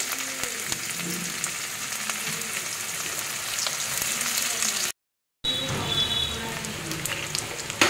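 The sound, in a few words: chopped onion frying in oil with bay leaf, dried chili, cumin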